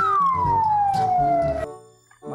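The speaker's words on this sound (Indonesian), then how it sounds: "Mobil damkar." Fire truck siren on a firefighting vehicle, a single loud descending wail sweeping down in pitch, then cutting off abruptly and leaving quieter traffic noise.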